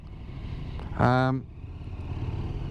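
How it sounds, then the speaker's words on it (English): A KTM 1290 Adventure motorcycle engine revs up sharply in one brief, loud rising burst of about half a second, then drops back, with a speaking voice heard around it. "you can't help but grin when you open this bike up."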